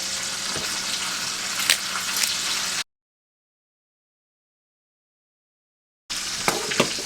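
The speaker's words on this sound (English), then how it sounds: "once the grease actually hits the lettuce, you know, actually wilts it" Hot grease poured over cut lettuce for Appalachian kilt lettuce gives a loud, steady, close sizzle that cuts off into silence midway, then resumes; no one speaks.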